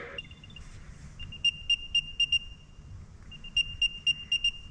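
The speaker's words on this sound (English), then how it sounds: "putting this thing inside of a case is going to make the beeping noise that it makes significantly less" A muffled tracking device for a wheelchair beeps from inside a case in two quick bursts of several chirps each, sounding slightly dampened, over faint background hiss.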